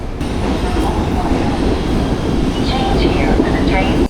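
Steady rumble and rattle of a New York City subway train in motion, with faint squeals and voices murmuring in the background throughout.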